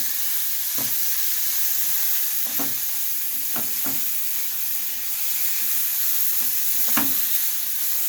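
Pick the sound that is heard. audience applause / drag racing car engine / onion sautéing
onion sautéing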